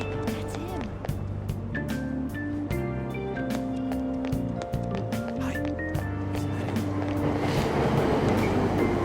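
A subway train in the Persona 5 Royal video game pulls away from Aoyama Ichome station, low rumbling motor hum with rising and shifting tones, clattering wheel knocks and a brief chime, growing steadily noisier toward the end.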